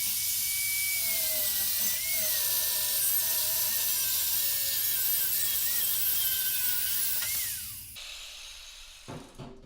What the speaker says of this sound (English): got a angle grinder with a cutoff wheel.